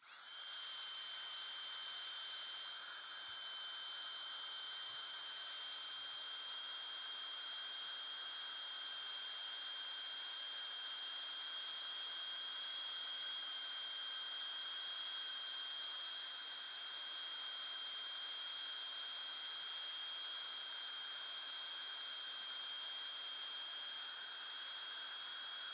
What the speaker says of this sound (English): Now, I normally fast forward through heat gun.